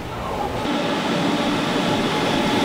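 A train pulling into a station during the Chuseok holiday, heard as a loud, steady rumble of rolling rail cars with broadband noise throughout and no voices.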